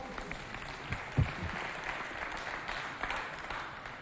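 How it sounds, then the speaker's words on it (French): A crowd at a youth cultural center event applauds during a prize handover, with steady clapping from many hands spread across the room and a single sharper thump early on. "On applaudit ce moment."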